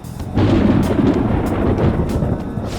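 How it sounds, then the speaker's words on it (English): Thunder before rain in the Persona 5 Royal video game, a loud, deep rumbling roll that starts abruptly and sustains for a few seconds with a crackling, hissing edge, no talk over it. "It sounds like it's going to rain."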